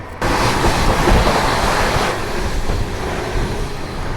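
The Swaraj Express races past at about 130 km/h, heard from an adjacent moving train as a sudden loud, steady roaring rush with rumbling wheel noise that holds throughout.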